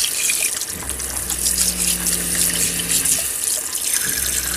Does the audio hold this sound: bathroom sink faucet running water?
yes